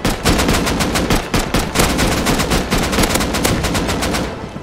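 Rapid automatic gunfire in the survival game Rust during a raid, loud, dense bursts of shots firing almost without pause and fading slightly at the end, with no talking.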